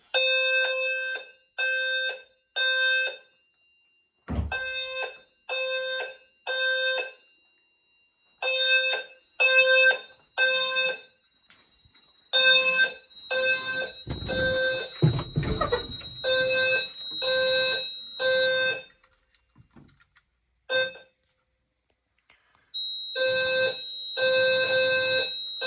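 A building's fire alarm system, set off by smoke from a fog machine, sounds loud, repeated electronic beeps in evenly spaced bursts. A rushing hiss cuts in partway through, and the alarm pattern carries on with tonal squeals. No one speaks.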